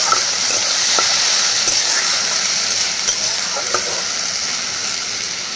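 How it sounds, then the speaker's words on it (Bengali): Potatoes frying in hot oil with black cumin seeds give a steady, close sizzling hiss with a few small pops and crackles throughout. "কালো জিরাটা আর সেটা ভেজে নিলাম আর বসিয়ে দিয়েছি আলু ভাজা।"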